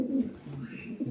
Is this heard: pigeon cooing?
yes